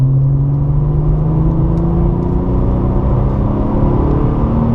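A Porsche 997 Targa 4S at full throttle on the Circuit de Bresse gives a loud, steady engine drone with pitch slowly climbing as it gathers speed, heard close from inside the car.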